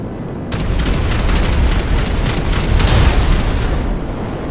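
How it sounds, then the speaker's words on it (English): Loud continuous roaring gunfire with rapid booming bursts from a P-996 Lazer jet's cannons tearing into a Nightshark armored vehicle in GTA 5 Online, sustained for several seconds. "Let's just look at how fast the cannons can destroy an armored vehicle"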